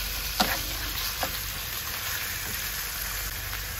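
Chicken strips and plenty of onions sauté in a hot pan, a steady close sizzle broken by a few sharp utensil scrapes early on, with no one speaking.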